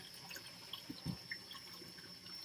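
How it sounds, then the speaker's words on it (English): A faucet runs softly while a paintbrush is rinsed and rubbed back and forth under the stream, giving light splashes and a few small drips over a steady hiss. "when you turn on the water and you rub back and forth, that will scrub the paint off of the paintbrush"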